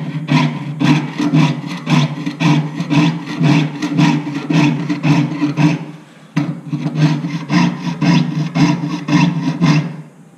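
A jeweller's saw blade cuts through metal with rapid, rhythmic up-and-down rasping strokes, loud and close, in two long runs separated by a brief pause, with no talking.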